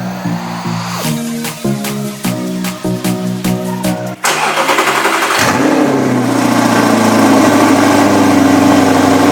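An Audi R8 engine starts in the morning with a loud bark, then idles steadily and loudly, preceded by a few sharp clicks and mechanical clunks.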